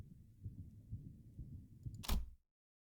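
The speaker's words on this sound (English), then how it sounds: "You can hear the heartbeat of Dante." Low, throbbing heartbeat from the video game Limbus Company, a steady muffled pulse of repeated thumps that swells near the end and then cuts to silence.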